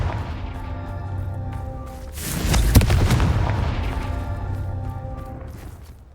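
A Confringo blasting spell explodes in Hogwarts Legacy: one loud, booming burst with a sharp crack at its peak, rising over a steady game-music bed and then fading slowly.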